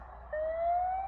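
A police car siren wails briefly as a steady rising tone, moderately loud over rural background noise with no talk.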